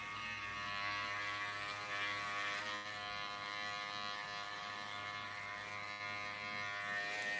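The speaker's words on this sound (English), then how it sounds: "A little bit of freehand beard trimming going on." An electric trimmer buzzes steadily while trimming a man's beard, a continuous close-up motor drone with slight shifts in tone as it moves across the hair.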